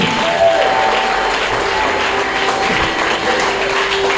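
A church congregation applauds and cheers during a Sunday service, a steady dense wash of clapping and shouting that holds at full loudness throughout with no pause.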